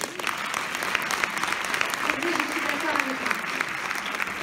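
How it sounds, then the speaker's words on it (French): An audience at a comedy show in Lyon applauds steadily, a dense wash of clapping sustained throughout, with faint voices rising beneath it. "Je vous demande de l'applaudir."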